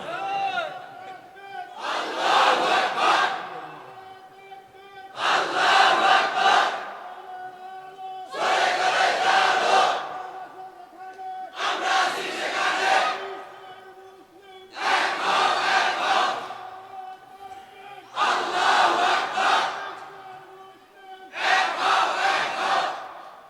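A large crowd at an Islamic sermon gathering in Bhola chants slogans in unison, with seven loud rhythmic bursts separated by short pauses and a sustained voice ringing over each shout.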